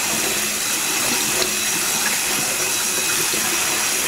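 Zucchini relish rinsed under running tap water makes a steady, loud, unbroken hiss and splash close by, with no pauses throughout.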